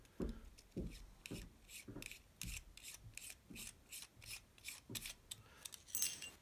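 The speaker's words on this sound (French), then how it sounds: "Et voilà, et là, je dévisse." Metal retaining ring on the front element of an old, somewhat worn camera lens being unscrewed by hand, giving quiet, regular rasping scrapes about twice a second, close up in a quiet room.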